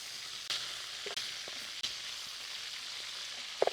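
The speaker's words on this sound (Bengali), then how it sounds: "এভাবে আমি সবগুলো কাঁকড়া ফ্রাই করে নিচ্ছি।" Crabs fry in hot oil, a steady close hiss and sizzle with a few sharp pops and light clinks of a utensil, no talking.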